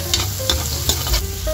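Garlic and onion going into browned ginger in a hot pan for sinigang na bangus make a loud, close sizzle. Clinks and scrapes of stirring come through at irregular moments, with no voices.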